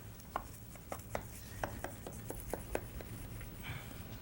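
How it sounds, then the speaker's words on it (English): A knife cuts a wedge from a rested roasted vegetable dish with garlic and rosemary, giving soft crisp crunches that repeat about a dozen times in a quiet kitchen. "After letting it sit and rest, we'll cut a nice wedge here."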